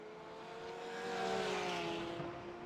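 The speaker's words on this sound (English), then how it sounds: "With 9 minutes left to go, that BMW is coming" A BMW GTD race car closing in, its engine a steady rising whine that swells louder toward the middle and then eases off, with faint tire and track noise beneath.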